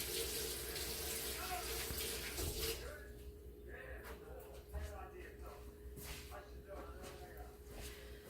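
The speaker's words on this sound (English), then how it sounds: "let me wash my hands real quick" A kitchen tap runs as hands are washed, a loud steady rush of water for the first few seconds that then drops to a softer trickle and splashing, with faint movement sounds.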